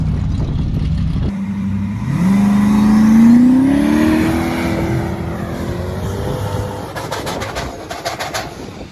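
A car engine at a motorsport event in Hella, Iceland, with a faulty transmission revs hard and climbs in pitch, then drops back and sputters, loud and close, followed by bursts of crackling.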